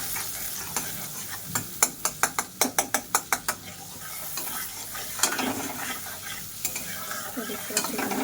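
A spoon scrapes and taps against a pan as flour is stirred into melted butter, first in a quick run of sharp rhythmic clicks, then softer scraping over a light sizzle.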